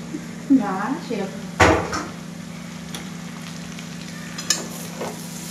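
Potatoes and onions frying together in a pan, a soft continuous sizzle broken by a few sharp clanks of a utensil against the pan, with brief speech over it.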